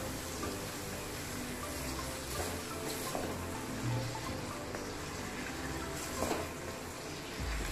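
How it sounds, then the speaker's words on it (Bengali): Chicken frying in a pan with onions and spices for bhuna khichuri, a faint, steady sizzle with soft crackling and occasional louder pops, no talking. "সমস্ত কিছুর সাথে চিকেনটাকে ফ্রাই করে নেব।"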